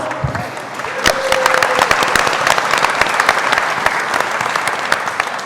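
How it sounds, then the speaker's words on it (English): A crowd at a panel discussion on healthcare applauds the moderator, many hands clapping in a thick, continuous wash that swells after the first second and stays loud and steady to the end. "Now turn that applause to our moderator, Crystal."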